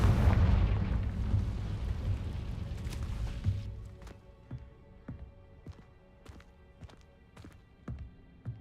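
A heavy booming blast from the Confringo explosion spell in Hogwarts Legacy rumbles loudly and fades out, followed by a run of soft, evenly spaced footsteps.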